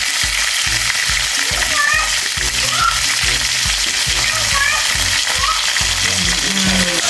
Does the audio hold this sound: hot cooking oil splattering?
yes